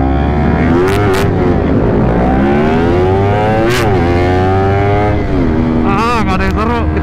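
Several matic racing scooters, such as a Yamaha Aerox and Honda Vario, pull away together in a street race, engines revving and climbing in pitch with sharp throttle bursts, loud and close, while a rider talks over the noise.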